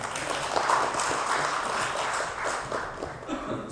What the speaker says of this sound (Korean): 유지선에게 박수 주십시오